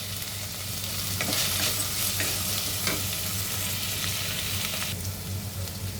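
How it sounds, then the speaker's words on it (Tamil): Onions sautéing with salt in a pan for a salna, a steady close sizzle and fry with occasional stirring scrapes throughout, no talking. "வெங்காயம் வதங்கிடுச்சு நல்லா"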